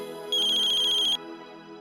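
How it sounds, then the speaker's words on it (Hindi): A phone ringtone trills for about a second, a bright warbling electronic ring that rises clearly above a faint background hum and then stops. "अक्षरा का फोन"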